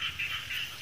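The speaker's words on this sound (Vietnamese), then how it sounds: "nghe nhái rồi kêu rôm rẻ không nghe sướng tai luôn." Frogs croak together in a rice-field setting at night, a rhythmic pulsing chorus repeating about every quarter second, steady and moderately faint, with no talk.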